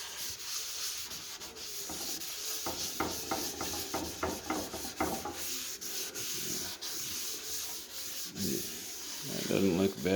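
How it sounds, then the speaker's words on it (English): A towel rubs stain into the surface of a distressed wooden speaker cabinet with steady, scratchy rubbing strokes. Some passes come in quick rhythmic bursts. The sound is close and sits over a constant background hiss. "So I'm just going to kind of rub it in everywhere, make sure it gets in all the holes, like so."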